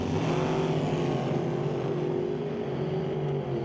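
An alcohol-fueled dragster tears down the drag strip at an NHRA Northwest National Open Series race, a loud continuous engine roar with a buzzing, slightly wavering tone that holds steady throughout.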